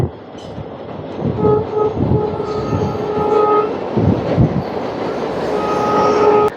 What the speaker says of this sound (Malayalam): പാസഞ്ചർ ട്രെയിനാണ് കേട്ടോ